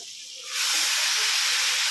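Spice mix hits hot butter in a wok and erupts into a loud, steady sizzling hiss that swells quickly and holds until it cuts off.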